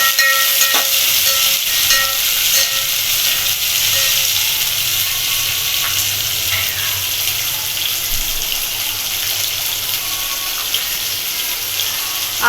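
Onions and green chillies sizzle in a hot pan, giving a steady frying hiss that continues throughout with a few faint clinks and no talking.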